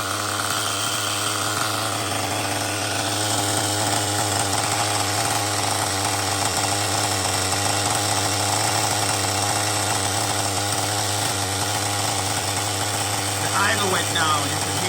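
An LRP 32x Spec 4.1 nitro engine idles during break-in, a steady loud buzzing drone that stays constant throughout, with a brief rattle near the end.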